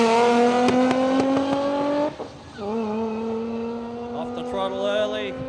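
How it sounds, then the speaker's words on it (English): A rotary-powered Toyota Corolla drag car accelerates down the strip at Willowbank Raceway, its high buzzing engine note climbing, briefly dropping at a gear change, then rising again, loud and fairly near. "the rotary-powered Corolla here in the Rocket Industries lane. Pretty quick little beastie"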